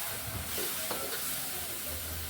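Paco fern being stir-fried in a pan, a steady close sizzle with scraping stir strokes over a low background rumble.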